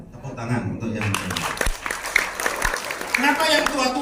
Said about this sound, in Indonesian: Tepuk tangan untuk yang muda.